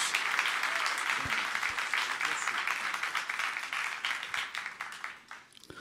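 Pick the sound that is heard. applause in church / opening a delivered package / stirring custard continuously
applause in church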